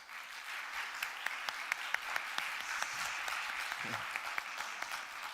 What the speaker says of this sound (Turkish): Yusuf'u alkışlayalım